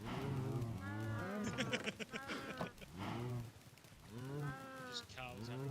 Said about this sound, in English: just cows having trouble